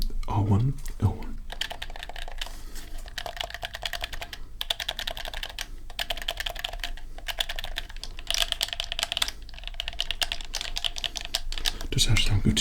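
Rapid plastic clicking of a game controller's shoulder buttons and triggers, L2, R2, R1 and L1, pressed in dense bursts with brief pauses, close-miked, with low voice murmurs at the start and end.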